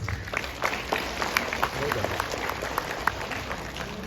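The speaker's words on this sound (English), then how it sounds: "You all deserve a big round of applause." Audience applause at a graduation ceremony: many separate claps ring out at moderate distance over a murmuring crowd, steady and fairly soft for a few seconds.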